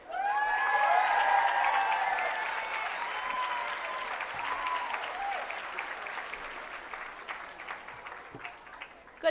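Loud crowd applause fills a commencement hall at the USC Annenberg School of Journalism's 2011 ceremony, welcoming a professor to the stage. It opens with cheers and whistles over dense clapping, then settles into steady applause that slowly thins.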